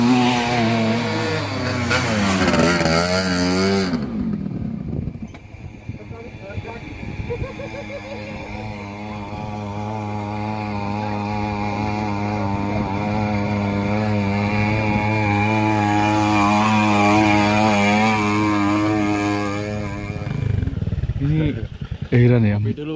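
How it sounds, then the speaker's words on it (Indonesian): Old motorcycle taxis on the mountain road to Gunung Sumbing via Garung, their engines droning loudly and steadily as they climb, with revs rising and falling under a near, continuous roar. "motor-motor tua gini buat ngojek malah kuat"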